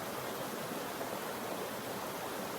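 Creek water flowing outdoors, a steady, even rushing wash with no breaks and no voices, moderately quiet and continuous.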